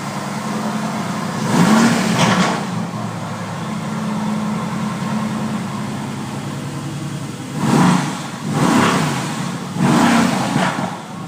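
A Mercedes-Benz V8 engine revs up loud and close, one strong rise early on and then two more surges near the end, with a steady idle rumble between them.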